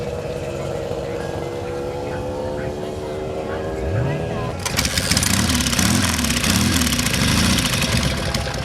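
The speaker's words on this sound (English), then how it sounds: "demonstrate kickstarting a Norton with bare feet" A Norton motorcycle is kickstarted barefoot at Lake Bonneville. After a few seconds of rumbling and revving, the engine catches and settles into a loud, close idle with rising and falling revs. Voices are audible in the background.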